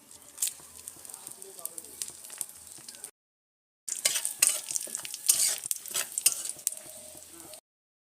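Bay leaf, cloves, cardamom, cinnamon and cumin fry in a kadai, crackling and sizzling with sharp stirring scrapes, broken by a short silent gap.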